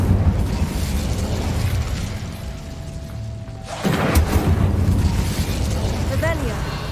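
An Incendio fire spell is cast in the video game Hogwarts Legacy, giving a sudden loud fiery burst and whoosh that lingers among dense game effects and background music.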